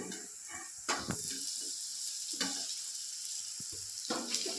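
Ginger-garlic paste and green chilies fry with softened onion and cumin in a pan for samosa filling, giving a close, steady sizzle broken by several scraping stirs.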